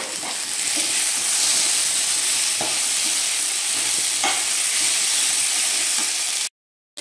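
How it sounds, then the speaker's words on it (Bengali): Shrimp and pointed gourd being stirred into fried spices, a strong continuous sizzle with periodic spatula scrapes against the pan, ending in a brief silence near the end. "এখন দেখছি দেখো চিংড়ি মাছ সমেত সব কিছু দিয়ে আমি নেড়ে চেড়ে নিচ্ছি সুন্দর করে।"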